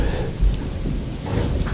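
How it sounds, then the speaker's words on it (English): Steady rain with rolling thunder during a storm, a continuous wash of falling rain with low rumbles swelling underneath, fairly loud and close throughout with no voices. "Isn't this rain a blessing?"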